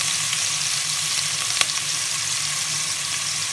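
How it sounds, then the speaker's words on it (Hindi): Crushed onions sizzle and fry steadily in a pan for chicken korma, a continuous loud hiss with a single sharp pop partway through and no talking. "मेरे पास कुटे हुए जो प्याज थे मैं वो डालने लगी हूँ इसमें।"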